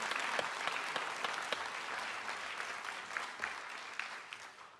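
An audience at a grade 5 promotion ceremony applauds, a steady wash of clapping from a fairly large crowd at moderate distance that holds for several seconds and tapers slightly toward the end.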